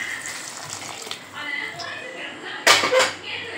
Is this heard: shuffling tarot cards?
no